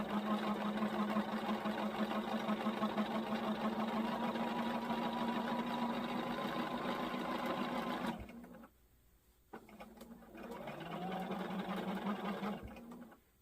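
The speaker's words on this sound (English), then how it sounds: "I am just going on and sewing it on" Sewing machine stitching fabric for a quilted wall hanger, running in a steady, close, even whir for about eight seconds, falling quiet briefly, then starting up again for a few more seconds.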